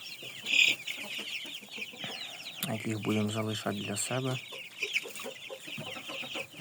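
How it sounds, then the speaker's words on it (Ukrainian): Chicks and hens of downy, bearded, crested, feather-footed breeds cluck and peep in a busy coop, with someone talking over them for most of the stretch. "Невеличкий наш табун курчаток"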